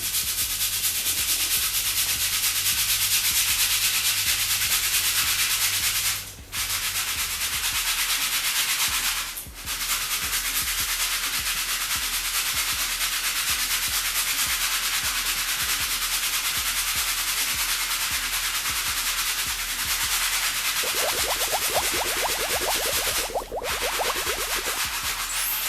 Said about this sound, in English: I'm going to use a medium bristle brush.